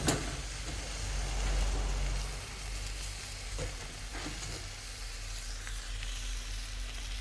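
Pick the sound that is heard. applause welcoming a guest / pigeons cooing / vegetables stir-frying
vegetables stir-frying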